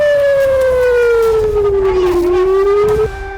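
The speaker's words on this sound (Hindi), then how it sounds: "हमलों से उत्तरी इजराइल के शहरों में सायरन बज उठे" Air raid sirens wailing in northern Israeli cities during rocket attacks, a loud sustained tone that slowly falls and then rises again over several seconds, with no other sound over it.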